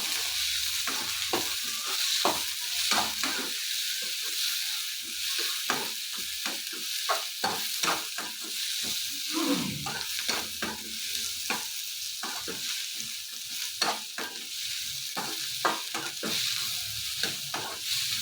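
Ingredients for a cauliflower curry fry in a pan until golden brown. A steady soft sizzle runs under repeated scraping strokes of a spoon stirring at a brisk, uneven rhythm, close up and with no talking.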